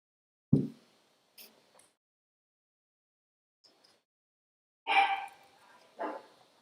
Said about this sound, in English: dog's barking. I don't know if you can hear that.